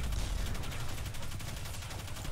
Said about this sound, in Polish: Bo widzę, że ktoś też tam strzela.